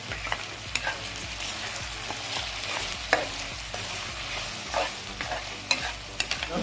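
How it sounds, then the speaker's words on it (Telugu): Ginger garlic paste is stirred into a frying drumstick and tomato curry, a steady sizzle under repeated scraping strokes of a spoon against the pan, close and continuous, with no talking. "రెండు టేబుల్ స్పూన్లు అల్లం వెల్లుల్లి పేస్ట్ చేసుకుని దీన్ని బాగా కలుపుకుందాం"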